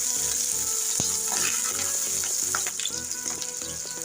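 Shrimp fry in hot oil with cumin seeds and a little salt, a dense, loud, continuous sizzle heard up close, with a few utensil knocks and stirring sounds and no voices.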